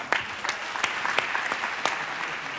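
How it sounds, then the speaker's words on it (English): Steady applause from an audience at a panel talk, fairly faint and even, with a few sharper individual claps standing out over about three seconds. "round of applause for that"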